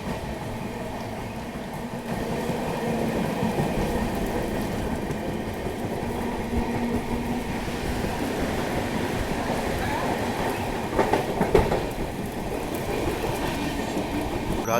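A Duronto Express crawling slowly along the rails at night, heard from inside as a steady rumble with faint rhythmic clickety-clack and occasional wheel clatter, continuous throughout.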